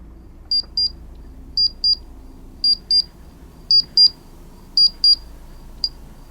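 A ghost-hunting emitter device gives paired high electronic beeps, five double bleeps spaced about a second apart and then a single short one, sharp and close in an otherwise quiet outdoor forest setting.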